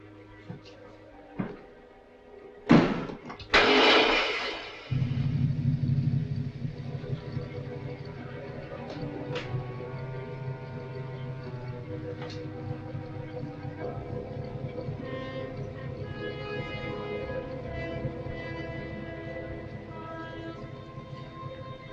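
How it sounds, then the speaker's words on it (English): A motor clatters and starts up after a few sharp knocks, then settles into a steady mechanical hum that runs on at moderate level, set in a 1946 film scene. "Start the motor."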